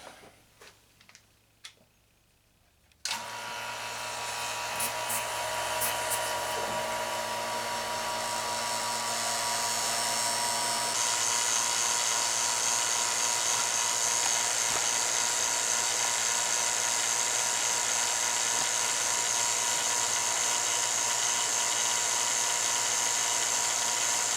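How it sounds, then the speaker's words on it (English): A small vacuum pump switches on after a few quiet ticks and runs with a steady, loud mechanical whine and hum, unbroken to the end. "we're going to vacuum it again"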